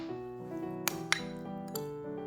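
A spoon clinks against a bowl while seasonings — chili powder, sesame salt, pepper and sesame oil — are stirred together, giving a few sharp, close metallic taps over quiet rustling.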